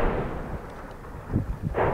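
Distant artillery shelling fired from regime checkpoints on a town in northern Hama countryside, heard as a few dull thuds and rumbling booms over a noisy outdoor background.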